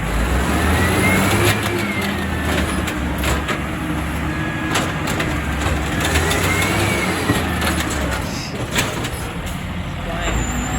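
A truck engine is revved hard again and again in repeated rising and falling surges, with loud engine rumble close by and people talking over it.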